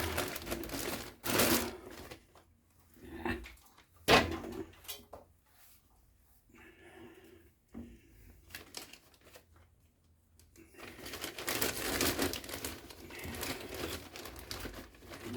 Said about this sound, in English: put them in my Ziploc bag like this